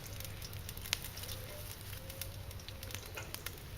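Food sizzles in a pan over an outdoor campfire, a soft continuous frying hiss dotted with sharp crackles and pops from the burning wood, quiet and steady throughout.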